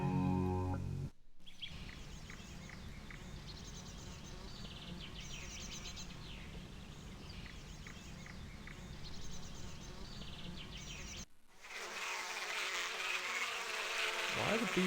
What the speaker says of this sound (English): Why are the bees following me here?